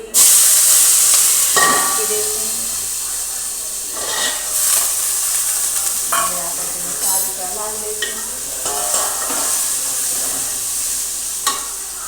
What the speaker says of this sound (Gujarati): હવે આપણે તેમાં નાખશું ડુંગળી